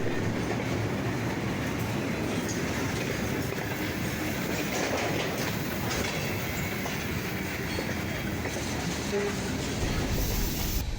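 A train hauling a caboose passes on a Cuban rail line, making a loud, continuous rumble with rhythmic clickety-clack from the wheels over the track, and brief squeals near the end.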